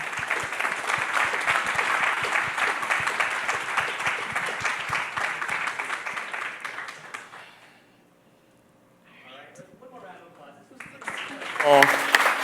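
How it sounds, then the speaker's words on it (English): An audience applauds the panelists at the close of a responsible AI conference session. Steady, fairly loud clapping lasts about seven seconds, then fades to near silence, and a voice begins speaking afterward. "please give a round of applause for everyone"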